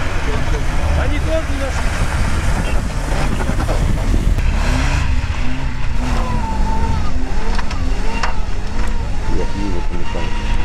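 Chevrolet Niva off-road car easing down a steep slope at a GPS orienteering rally in the steppe, its engine a low steady rumble with rising and falling revs, heard close beneath continuous talk from people nearby.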